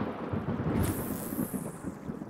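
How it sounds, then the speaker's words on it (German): Thunder rolls in a Russian Fishing 4 fishing game storm on a river, a low rumble swelling under wind and a hissing wash, with a brighter crack partway through and no talk. "kommt jetzt nicht direkt Regen, sondern direkt Gewitter"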